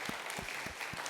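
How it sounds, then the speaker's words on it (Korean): A Korean church congregation keeps clapping during a Sunday worship celebration, a moderate wash of applause with a few distinct low thumps standing out at a steady pace. "우리 계속 박수 드리겠습니다."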